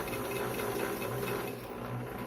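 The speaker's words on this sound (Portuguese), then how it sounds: "vou costurar normal" A sewing machine hums steadily and continuously while sewing a straight seam, close and even in level, with no pauses.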